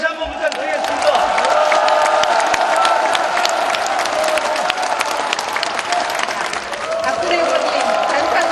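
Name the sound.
audience applause for a speaker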